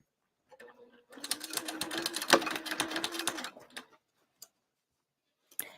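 A sewing machine runs a steady rapid stitching burst of a few seconds on a cross-body bag lining, then stops, with faint isolated clicks afterward.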